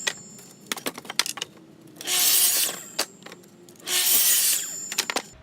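A power saw cuts wooden bench-leg pieces to length against a stop block, with two long, loud cutting bursts of about half a second each, separated and surrounded by sharp knocks and clatter of handling wood.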